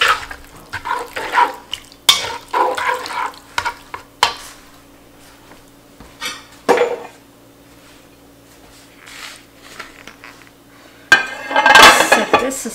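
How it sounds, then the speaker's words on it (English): A spoon stirs crumbled feta cheese with olives in a bowl, giving soft scraping and clinking strokes in uneven bursts, close and moderately loud, with quiet pauses between and a louder flurry of clinks near the end. "I'm just going to stir that up."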